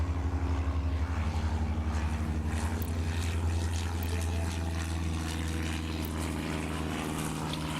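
Old propeller planes drone steadily in the airport management game Airport Madness: Time Machine, set in 1925-1928, a continuous loud buzzing engine hum with a tone shifting slightly partway through, no voices.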